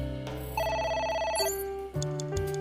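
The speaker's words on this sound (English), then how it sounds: "A phone. Should I pick it up?" A telephone rings in AI: The Somnium Files, a steady electronic trill repeating with a clear tonal pattern, close and loud over faint background game ambience, with no talking.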